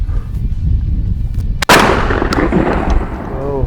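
A Landor Arms bullpup 12 gauge semi-automatic shotgun fires a single loud, sharp blast midway through, followed by a booming echo that rolls away over the steady outdoor background noise, with no talking.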